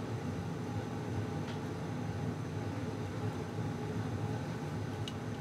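A domestic hot water heater running in the background gives a continuous low rumbling drone at moderate level, steady and unchanging, with a couple of faint ticks on top.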